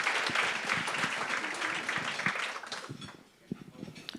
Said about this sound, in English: let's all give a round of applause for somebody who is making incredible impact